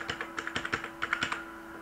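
Fingers type the digits 1 to 8 as a Wi-Fi key on a computer keyboard while a Sagemcom modem is set up: a quick run of about a dozen crisp, close plastic key clicks in an uneven rhythm, then a brief pause.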